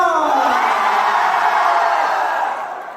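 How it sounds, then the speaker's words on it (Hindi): A seminar audience in Darbhanga shouts and cheers loudly, a dense sustained roar of many voices that stays strong for most of the stretch, then eases slightly near the end. "अपने शहर के लिए शोर मचा दीजिए जोरदार"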